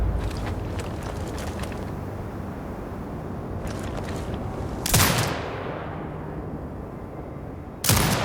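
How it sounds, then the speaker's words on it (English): A turret fires in the video game Sniper Ghost Warrior Contracts 2. Two loud, sharp blasts about three seconds apart each ring out and fade over a steady background rumble. "Exit binocular mode and command the turret to fire."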